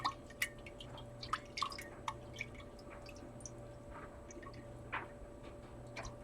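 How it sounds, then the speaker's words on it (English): Water with dissolved sugar is swirled in a glass jar, making faint sloshing with scattered small clinks and ticks of liquid against glass, quiet and close. "I'm going to swirl it around to dissolve the sugar"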